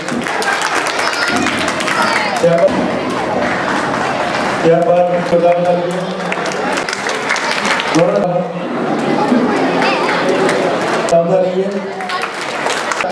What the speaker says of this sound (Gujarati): ખૂબ ખૂબ તાળીઓ બજાવીએ